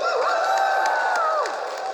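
An audience at a singing class in the Lotte Department Store culture hall in Yeongdeungpo lets out a long, sustained shout. Sharp claps and cheers break through it, and the whole burst stays loud for about two seconds.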